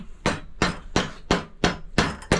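A bushing tapped into the axle of an Austin Ten with a hammer, seven sharp metallic blows at a steady, slightly uneven pace, close and loud with ringing decay between strikes.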